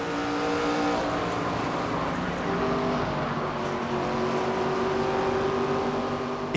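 A race car engine in NASCAR 25 at Iowa Speedway holds a steady, droning high-revving tone with little change, loud and continuous throughout.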